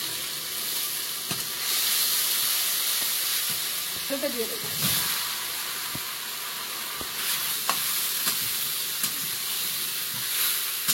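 Ginger paste frying in oil in a wok after whole spices go in, a loud continuous sizzle with occasional stirring scrapes and a few brief spoken words.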